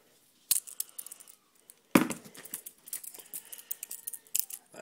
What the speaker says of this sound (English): grab some scissors